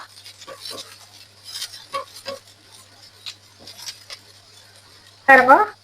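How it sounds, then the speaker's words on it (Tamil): Egg and aubergine curry stirred in a pan, with scattered spoon scrapes and clinks against metal at an uneven pace, plus a louder clatter near the end, while a person talks throughout. "கிளறி விட்டு கொள்ளுவோம்"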